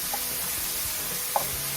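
Ham sizzles steadily in a hot pan while being warmed for a breakfast quiche, a soft continuous frying hiss with a couple of faint clinks, and no talking.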